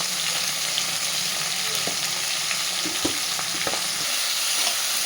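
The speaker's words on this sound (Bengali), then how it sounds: "খুব সুন্দর করে এবার মাছের মাথার সাথে সমস্ত মশলা দিয়ে কষিয়ে নেওয়া হচ্ছে" Fish head fries with cumin powder, chilli powder and other spices in a pan for a bottle gourd dish, a steady close sizzle punctuated by scattered scrapes and clacks of stirring.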